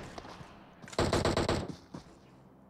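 PUBG Mobile gunfire: a burst of rapid automatic shots rattles out, with a few scattered single shots before and after, some fired into the ground.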